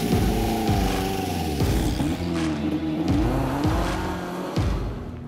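A Lotus Elise Sport 240 Final Edition and a Caterham Seven 485 R drive in close succession, loud revving engines climbing and dropping through repeated gear changes, with tire noise and no talk over them.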